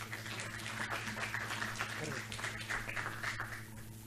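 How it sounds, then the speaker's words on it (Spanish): Audience applause from a crowd welcoming a doctor at a talk on diagnostic challenges, a steady dense wash of clapping lasting throughout, with speech mixed in. "Un aplauso, por favor, para él."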